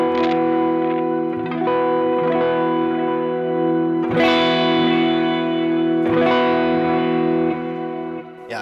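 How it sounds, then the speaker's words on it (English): Electric guitar set for a praise and worship tone, its volume knob rolled back so it plays mostly clean with a slight edge of distortion. Several strummed chords ring out and sustain loudly, with reverb-like tails between the strums. "it cleans up, but it still has a little bit of distortion to it"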